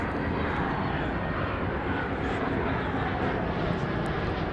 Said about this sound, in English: There you see it, is coming in from Phoenix, Arizona, an Airbus A321 Neo.